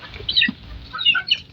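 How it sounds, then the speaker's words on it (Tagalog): Several hens clucking close by as they hurry toward feed, giving quick, short, chirpy calls over a low background. "Parang dumami mga inahin."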